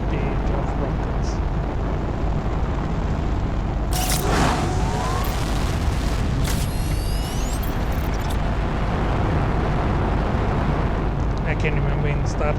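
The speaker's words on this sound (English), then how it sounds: "Get those rockets to launch." Rockets lifting off in the video game Planet Crafter, a loud continuous roaring rush with a rising whine and swooshing sweeps, steady throughout and close, filling the whole stretch without pause.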